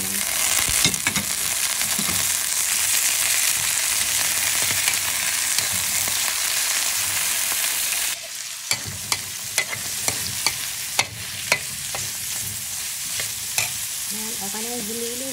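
Ground pork frying in a pan for ginataang sitaw makes a dense, steady sizzle. Partway through it quiets a little, and sharp clicks and scrapes from a stirring spoon follow. No one speaks.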